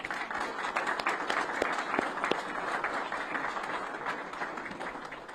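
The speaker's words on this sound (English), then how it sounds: "let's give them a round of applause" An audience gives a round of applause for current college athletes, a steady wash of many hands clapping at moderate volume, fairly even from start to finish with no voices over it.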